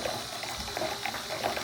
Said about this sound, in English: I'm just going to put a tiny bit more of warm hot water